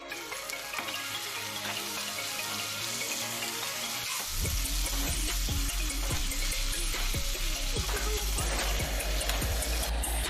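Duck meat sizzles in a pan, under a steady loud hiss that grows fuller partway through, with regular scraping knocks of a spoon stirring the pieces and no voices.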